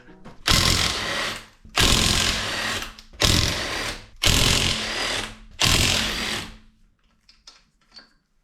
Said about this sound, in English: So I'm just gonna take my trusty angle grinder and cut them off.